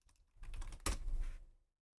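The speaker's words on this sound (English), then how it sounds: "If I can type." A short run of typing on a computer keyboard, soft key clicks bunched into a quick burst of about a second and a half, close and fairly quiet, with no one speaking.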